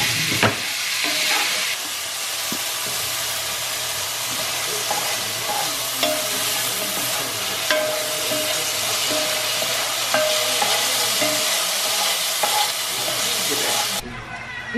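Onions and garlic sauté in a hot pan with a loud, steady sizzle and hiss. Stirring scrapes and clinks break in now and then, and the sizzle carries on for the whole stretch.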